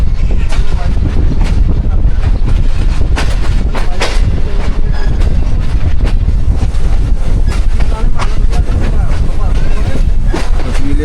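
A passenger train of the Awam Express rolls on after leaving Kotri in Sindh, a loud continuous rattling rumble with wheel clatter and heavy wind buffeting on the microphone throughout.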